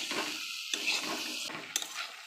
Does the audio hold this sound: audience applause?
no